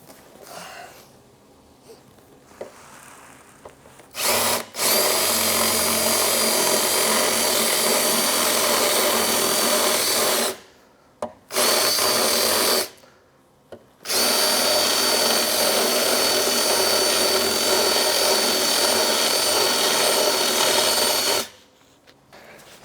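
A power drill whines loudly in long sustained bursts, drilling out rivets on a Polaris AXYS bumper, stopping briefly several times before starting again, with no talking.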